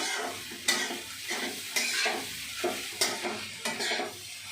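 Poha stirred into onions in a frying pan, a soft sizzle under repeated scraping strokes of a spatula, about six rhythmic stirs, close and clear with no talk.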